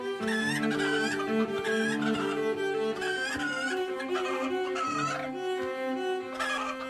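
Chickens in the RimWorld video game: a continuous, dense chorus of overlapping clucks and squawks at steady loudness, with no voices.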